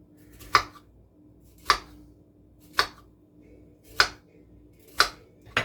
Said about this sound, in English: you're going to just get a nice paring knife, sharp. Don't cut all the way through